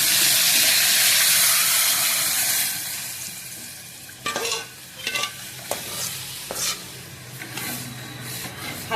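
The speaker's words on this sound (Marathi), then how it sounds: "आलं लसूण पेस्ट टाकली आपण त्यात, हलवून घ्यायची जरा चांगलं" A pan of ginger garlic paste for corn soup is stirred with a spoon, first under a bright sizzle that fades, then a series of distinct scraping strokes against the pan at close range.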